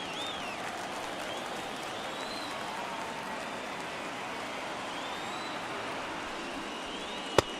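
Steady stadium crowd roar in an MLB The Show baseball video game, a broad continuous wash of cheering with no break, at moderate level.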